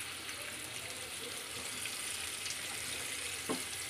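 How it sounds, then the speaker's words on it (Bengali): Potato pieces frying in oil in a pan for a Bengali dum aloo, a steady close sizzle running throughout with a brief louder crackle near the end and no talking. "বেশ সুন্দর করে আলুটাকে আমি ভেজে নিচ্ছি লাল লাল করে"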